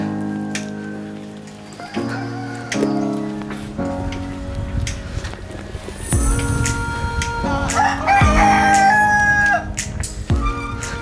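A rooster crows in Bali, its call rising a few times over steady rainfall pattering on surfaces and other outdoor background noise at moderate distance.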